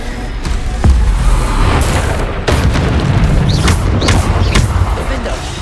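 Bombarda blasts in the video game Hogwarts Legacy go off as loud, deep booms, one after another in quick succession, with game voices calling out spells between the explosions.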